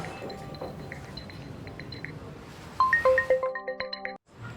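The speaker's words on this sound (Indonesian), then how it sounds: "Handphone saya bunyi." A mobile phone rings with a bright electronic melody of repeating short tones lasting over a second, rising clearly above a murmuring room background before cutting off.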